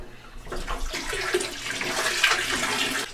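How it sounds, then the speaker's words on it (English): Water gushes steadily into storage tanks at a home in a Cuban neighbourhood, a continuous broad splashing rush that runs close and fairly loud for the whole stretch with no talk. "we gotta fill the tanks"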